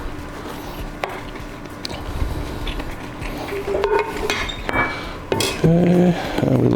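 A spoon folds noodles into thick, gooey mac and cheese in a dish, giving soft stirring and scraping under scattered clinks of utensils against the cookware, growing louder toward the end.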